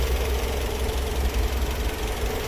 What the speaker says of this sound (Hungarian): 4 hengeres motor.